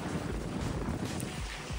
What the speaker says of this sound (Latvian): Varētu nebūt tāds vējš.